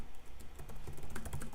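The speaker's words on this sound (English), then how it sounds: "And I'm typing it into the chat." Computer keyboard typing during an online elementary English lesson, a quick irregular run of close, crisp key clicks with no talk over it.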